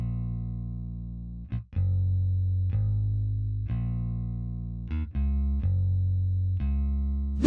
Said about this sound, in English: This is the bass without the effects.